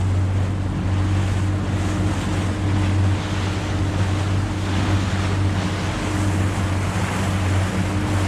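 A boat rides choppy water at the mouth of the Mersey channel near offshore wind farms, with a steady low engine drone under continuous wind buffeting and wash of waves against the hull.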